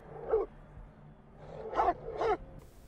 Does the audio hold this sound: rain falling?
no